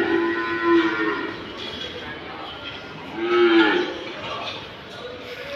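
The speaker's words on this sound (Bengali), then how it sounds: "ও ওই সাইডে সব গাই গরু।" Cattle at a farm, with cows in a separate section, low loudly twice in drawn-out calls over a busy, murmuring background.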